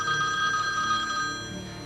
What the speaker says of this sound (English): received a number of sinister phone calls